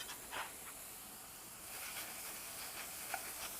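Grass-fed beef burgers sizzle in a hot pan with no added oil, cooking in their own fat; a soft, steady hiss holds throughout with a few faint crackles, quiet and close, no talking.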